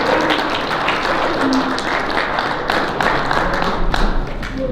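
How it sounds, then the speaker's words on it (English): An audience at a young men's leadership conference breaks into sustained applause: dense, steady clapping that fills the room evenly and swells slightly near the end, with no voices standing out above it. "So give them a round of applause as well."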